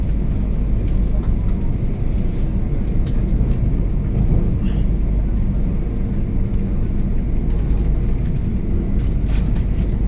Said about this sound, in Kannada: ಟ್ರೇನ್ ಈಗ ಟನೆಲ್ ಒಳಗಡೆಯಿಂದ ಸಾಗ್ತಾ ಇದೆ.